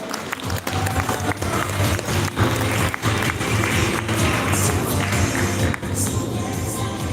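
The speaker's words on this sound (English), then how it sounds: "Please stand up, give her a round of applause." A pageant audience breaks into a dense, loud round of applause, with steady crowd clapping and some cheering sustained throughout, lightly dipping near the end.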